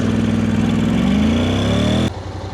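A Honda NC750 motorcycle engine with a DCT gearbox runs loud and close, its pitch climbing steadily before an automatic gear change drops the revs abruptly near the end.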